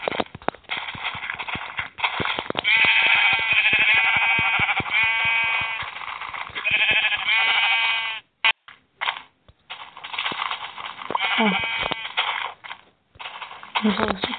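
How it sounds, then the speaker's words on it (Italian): Sheep in the Minecraft video game bleat repeatedly and loudly up close, the wavering cries running almost continuously, with brief clicking game sounds and gaps near the end. "uccidiamo le pecore"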